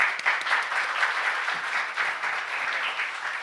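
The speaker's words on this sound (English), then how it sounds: "Please give them another big round of applause" Sustained audience applause for the panelists at an international forum on ship biofouling management, a dense, steady round of clapping from a seated crowd with no voices over it.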